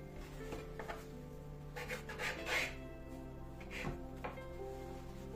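Knife cutting through layered cheese börek pastry dough on a wooden board, giving soft close rasping and rubbing strokes in a few bursts with no talking.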